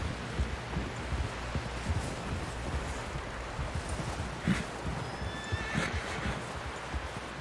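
A horse whinnies and snorts in Red Dead Redemption 2, amid outdoor wind and rustling, with faint hoof clopping; the neighs rise briefly above the steady background.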